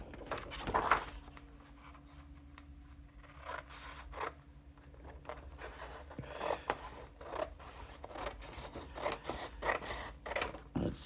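Scissors snip through paper while craft pieces for a bucket model are cut out, giving quiet, close, irregular crisp cuts and rustling in short bursts with pauses between.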